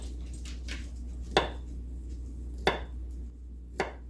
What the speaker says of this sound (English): Next is cut up this banana into tiny little slices.